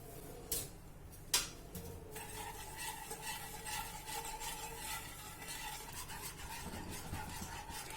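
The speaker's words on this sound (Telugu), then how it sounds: "స్టవ్ వెలిగించుకొని షుగర్ కరిగే వరకు తిప్పుతూ ఉండాలి." Sugar dissolving in a cup of water is stirred in a pan on a lit stove while making Bombay Karachi halwa. A couple of sharp clinks open, followed by continuous soft scraping and faint sizzling, close and quiet.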